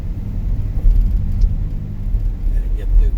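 A truck's engine rumbles low and steady while driving in third gear, heard from inside the cab with a constant road drone and faint voices underneath.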